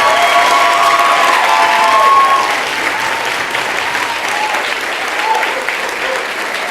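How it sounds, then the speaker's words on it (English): Audience applause and cheering at a dance event, a dense, loud wash of clapping with scattered shouts that holds steady throughout. "And give a round of applause for our founder, Aisha Jaco."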